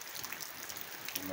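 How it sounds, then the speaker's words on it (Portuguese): Fine, continuous rain falling in a town in Brazil's Northeast, a steady soft hiss of drops with no break. "Tá chovendo, hein?"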